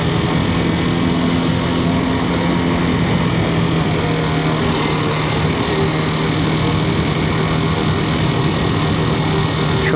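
A Bajaj Pulsar RS200 motorcycle idles with no throttle, a steady, loud, close engine drone with a constant hum that holds unchanged and uninterrupted throughout.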